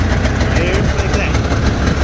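A Yamaha VK540 snowmobile engine runs just after a cold start, giving a steady, close, low rumble that holds an even idle throughout.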